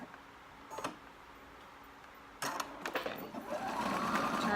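A sewing machine stitches around the edge of fabric. Short mechanical bursts come first, then after a pause a louder, continuous run of close, steady stitching.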